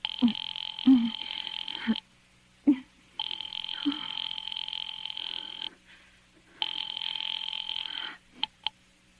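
A telephone's tones sound in a radio drama: long, steady, buzzing ring-like tones repeat with pauses between them, along with a few short clicks and brief electronic blips near the end.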